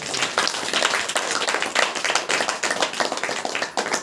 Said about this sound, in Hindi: ताली बजाकर परमेश्वर को